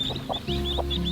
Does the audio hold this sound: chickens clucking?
yes